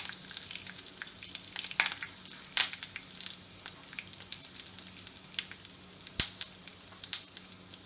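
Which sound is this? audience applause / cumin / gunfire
cumin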